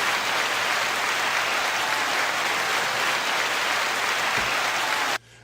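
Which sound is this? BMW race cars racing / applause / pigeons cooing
applause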